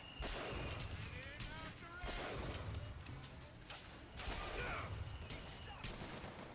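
Gunfire in a video game, a rapid series of sharp shots over dense game ambience and music, loud and continuous, with people talking over it.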